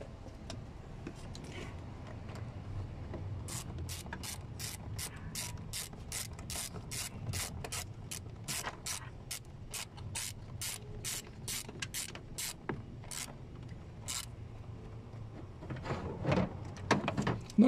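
A hand ratchet clicks rapidly and steadily while tightening fuel injector bolts on a Ford engine, a long run of close, sharp pawl ticks with a brief pause before a final burst.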